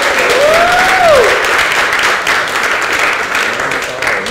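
Audience applause at a birthday event for Robert Reives II, dense steady clapping filling the room for several seconds while a faint tonal sweep rises and falls early on.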